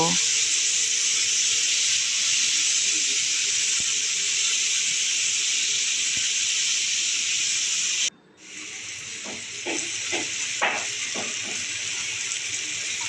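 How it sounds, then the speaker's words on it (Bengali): Grated potatoes frying in a pan, a loud steady oily hiss that briefly drops out, then returns with spatula scrapes and stirring clatter, close and without talk. "আলুগুলো প্রায় 3-4 মিনিটের মতো আমি একটু নাড়াচাড়া করে ভেজে নেব।"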